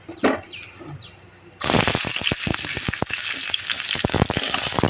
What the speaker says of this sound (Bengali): এখন আমি চুলায় বসাই দিলাম দুটো শুকনো মরিচ দিলাম